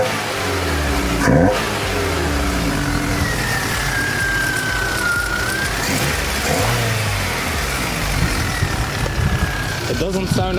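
A car engine fitted with a cheap homemade bumper ram cold air intake revs up and settles in a steady, loud drone, with a faint suction whoosh from the front and a voice speaking over it.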